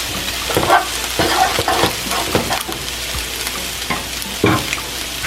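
Turkey fried rice sizzles in a pan while a utensil stirs and scrapes through it in quick, uneven strokes, the frying noise close and steady under the clatter.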